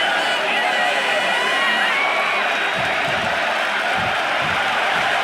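Arena crowd in the WWE 2K25 wrestling game roaring and cheering continuously, a loud dense wall of whoops and shouts with a commentator's voice speaking over it.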